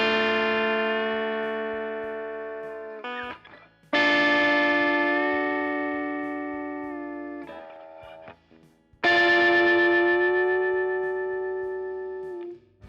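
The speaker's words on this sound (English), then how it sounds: "bend the minor third up to a major third and get that pedal steel sound like this" Electric guitar playing sustained chords with behind-the-nut bends that glide a minor third up to a major third for a pedal steel effect, three ringing phrases with short picked fills between, alone and clear.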